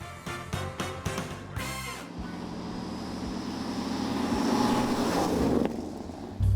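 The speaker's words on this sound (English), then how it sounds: "it sounds like a bigger engine than a 351, actually" A 1973 Ford Gran Torino with a 351 engine out on a ride, a steady engine rumble and road noise building louder over a few seconds after some brief knocks at the start.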